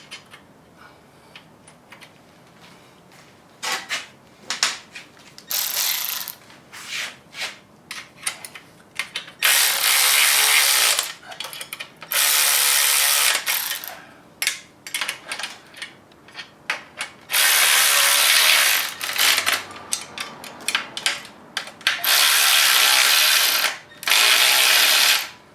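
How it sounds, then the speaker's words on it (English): A ratchet wrench tightening nuts and bolts during a Tesla electric motor swap, clicking in rapid bursts with some long sustained runs and short pauses between, close and loud, with no talk. "watching somebody put nuts and bolts on"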